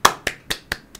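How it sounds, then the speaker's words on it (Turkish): Four or five sharp, crisp claps ring out in a quick, even rhythm, close and clear, each fading fast. "Alkışla hemen alkışla bak şimdi alkışladın mı?"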